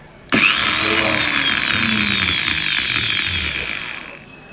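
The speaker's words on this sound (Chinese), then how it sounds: "这个电钻是力道很足的这种电钻" A powerful electric drill removes screws from a Sigma 50mm camera lens, starting abruptly with a loud, close, high-pitched motor whine that holds steady and then slowly fades, with no talk.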